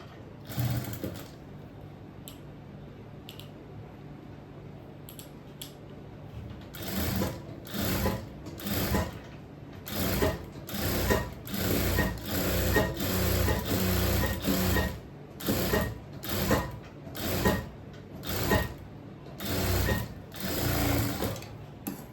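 An electric sewing machine stitches the collar fabric of a kurti in repeated short bursts of rapid, close mechanical chattering, stopping and starting throughout with quiet pauses between runs.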